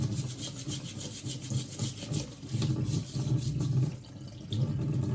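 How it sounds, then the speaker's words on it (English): A potato is scrubbed clean under a running kitchen tap, a continuous rough rubbing and brushing sound against the hiss of flowing water, close and steady. "a really good wash under the tap"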